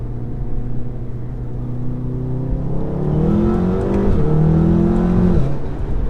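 A Stage 2 tuned 2016 VW Golf R accelerates hard on turbo boost, its engine note climbing steadily in pitch and loudness across several seconds, heard close from inside the car with no talking.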